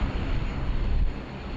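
An airliner takes off at Sydney Airport in heavy rain and wind, a broad low engine roar rumbling steadily at a distance beneath the rain's wash.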